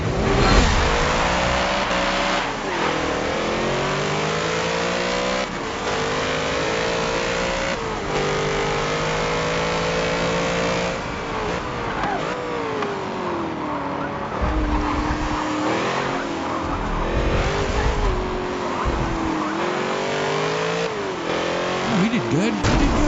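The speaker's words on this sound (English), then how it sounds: "Ooh, nice Ferrari." A Ferrari races in a video game, its engine revving up and down through gear changes in a loud, continuous whine with brief tire squeals, while players talk over it throughout.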